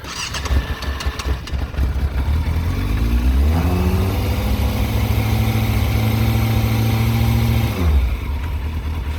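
A 1999 Yamaha FZS Fazer 600 motorcycle cranks briefly and catches, then settles into a loud, steady idle close by before the revs drop near the end.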